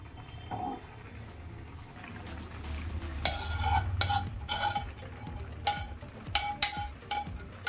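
Dry fruits are stirred into thick lauki kheer in a pot, giving soft scraping with a few sharp clinks of a spoon against the metal rim toward the end, with no talk.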